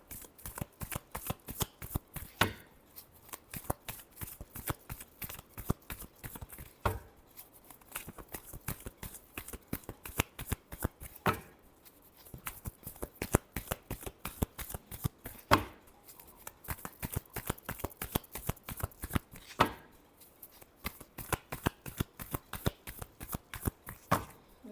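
Close, repeated hand shuffling of a tarot deck gives rapid papery riffles and taps in a steady rhythm, broken by brief pauses, with no voices.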